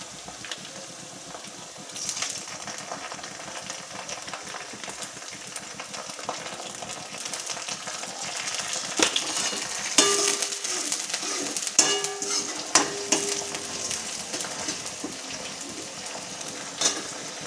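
Ginger-garlic paste fries in a tempering of hot oil for a green mung bean dish, a steady close sizzle with scraping and stirring clicks that grows livelier and louder toward the middle and end.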